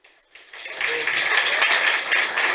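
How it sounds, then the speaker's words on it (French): Audience applause at a community talk on youth sexuality and health swells quickly and holds as a dense, steady patter of many hands clapping. "Tous vos applaudissements, bien sûr."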